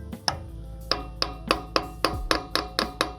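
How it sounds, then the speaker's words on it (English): A trailer wheel bearing is tapped into place: about nine evenly spaced, close metallic knocks ring out in a steady rhythm, with no talking. "tap it in the rest of the way. You're gonna hear it bottom out"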